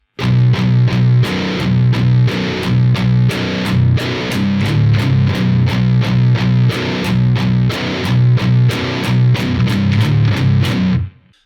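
A distorted low-tuned baritone electric guitar chugs a fast palm-muted power chord riff, shifting between first, third and open positions, tight rhythmic strums played continuously and loud before cutting off at the end.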